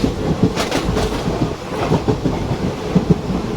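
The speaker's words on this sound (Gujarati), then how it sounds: "વીરપુર એ પાસ થ્રુ જાય છે ટ્રેન લાઈનમાં." A Pune–Veraval Express passenger train runs along the line near Veerpur, its steady rolling rumble broken by repeated clickety-clack wheel beats over rail joints, loud and close throughout with no talking.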